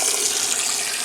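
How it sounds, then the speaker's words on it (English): A SURFLO 2088 water pump in a camper pushes water out through a tap, producing a loud, steady hissing gush that runs without a break from start to end. "Here, I'll even turn this on and show you."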